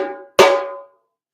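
Two ringing hand drum tones fade out, followed by one sharp, bright slap played with the left hand that decays over about half a second, then silence.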